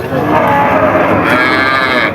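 A Friesian cow with her calf lows once in a long, loud, sustained moo at a busy village cattle market, close by and clear over faint background crowd noise.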